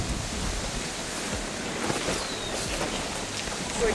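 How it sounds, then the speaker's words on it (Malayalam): Strong wind gusting across a campsite during a tent setup, a steady broadband roar of wind buffeting the microphone throughout, with no voices. "നല്ല കാറ്റ് കേട്ടോ"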